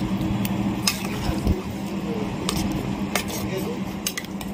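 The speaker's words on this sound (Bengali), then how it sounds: "চিকেনটা আমি এবার একটু হালকা করে নাড়াচাড়া করে দিচ্ছি" A spoon scrapes and clinks steadily against a pan while chicken chaap is gently stirred, close and continuous, with a soft sizzle beneath.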